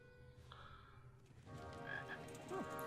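A frog croaks in the King's Quest Episode 2 video game, heard faintly as a few short croaks over a soft layered game soundscape, with no talking.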